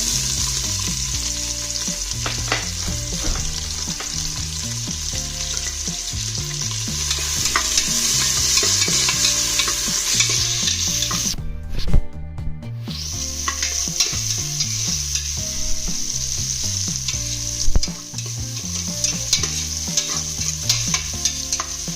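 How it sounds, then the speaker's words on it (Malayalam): Sliced onions sautéing in hot oil in a pan for kabsa, a steady close sizzle and crackle with occasional stirring scrapes, running continuously with a brief louder stir near the middle. "എണ്ണയൊക്കെ നന്നായിട്ട് ചൂടായിട്ടുണ്ട് നമുക്ക് സവാള ഇട്ട് കൊടുക്കാം"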